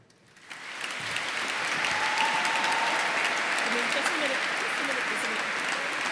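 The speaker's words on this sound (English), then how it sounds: "Take the applause, take the applause." Audience applause fills a graduation ceremony in a cathedral, rising quickly after a quiet start into steady, dense clapping that holds loud and even to the end, with a faint voice briefly audible early.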